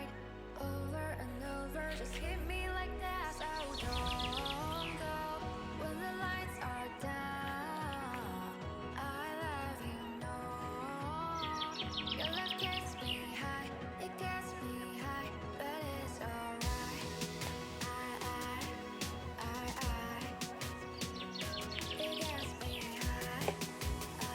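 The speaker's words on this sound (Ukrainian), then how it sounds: "Як соловейка співає" A nightingale sings in rich, varied phrases of trills and whistles over a busy harmonic background, continuous for the whole stretch, by the Southern Bug river in summer.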